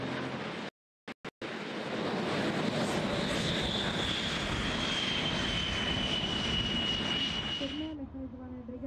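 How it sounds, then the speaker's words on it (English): Two Polish Air Force Sukhoi Su-22 M4 Fitter K swing-wing jets start their Lyulka AL-21 axial-flow turbojets, a loud, steady roaring whine with a rising tonal whistle that drops away near the end, after brief dropouts at the start. "Starting up now with their uniquely sounding Lajulka AL-21 axial flow turbojets are two Sukhoi Su-22 M4 Fitter K from the Polish Air Force"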